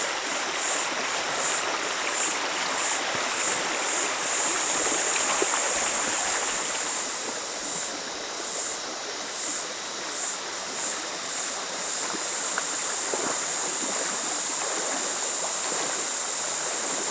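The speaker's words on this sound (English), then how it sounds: "let's go chase some waterfalls" A waterfall and stream rush steadily at a hidden camp spot, a continuous close wash of flowing water that stays even and unbroken throughout.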